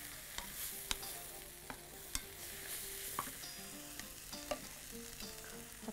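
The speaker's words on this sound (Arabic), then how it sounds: "نقلب كده السبانخ" A spatula turns spinach in a pan with soft sizzling and frequent clinks and scrapes against the metal, faint and close, no talk.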